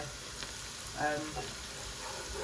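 Blended pepper, coarsely ground, sizzles as it is added to a pot of egusi soup, a soft steady frying hiss with a brief louder burst as it goes in.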